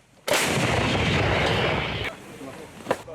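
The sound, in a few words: howitzer artillery firing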